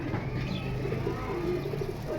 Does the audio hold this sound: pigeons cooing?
yes